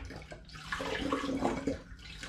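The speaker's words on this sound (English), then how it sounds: "So the 3rd litre now going in." Apple juice for cranberry and pomegranate hard cider pouring into a vessel, a short soft splashing stream that swells and then eases, heard alone.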